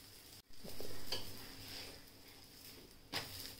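A cheese garlic paratha roasts on a hot pan with a faint, steady sizzle, broken by a couple of soft clinks of a utensil against the pan.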